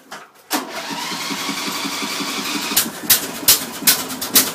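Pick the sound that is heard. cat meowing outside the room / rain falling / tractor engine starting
tractor engine starting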